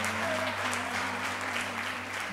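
A church congregation applauds during a sermon, a steady wash of clapping with a sustained musical drone or keyboard tone underneath.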